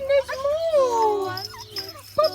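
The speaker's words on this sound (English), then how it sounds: "Look at all these kids. Oh, puppies." Maltese puppies whimper in Australia with thin, rising and falling whines, close and fairly loud, repeated over a couple of seconds.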